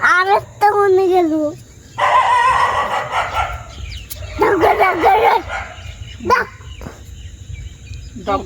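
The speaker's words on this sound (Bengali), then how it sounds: "ডগ ডাকছে মানে।" A dog barks and yelps in several short bursts, some close and loud, others whining, at night, with people talking intermittently around it.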